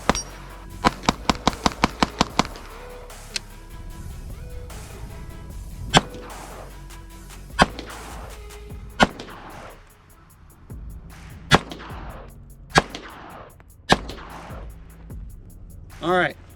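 Rifle shots with a Radian Ramjet compensator: a quick string of sharp cracks fired in rapid succession, then single spaced shots ringing out loud and close with decaying echoes between them.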